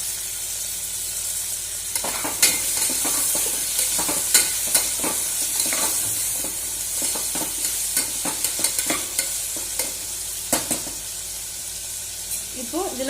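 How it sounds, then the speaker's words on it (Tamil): Tomatoes and onions sautéing in a pan for paruppu sadam, giving a steady bright sizzle with repeated scraping and tapping of the stirring spoon, and a faint voice near the end. "இப்போ இதையும் நல்லா வதக்கிடலாம்."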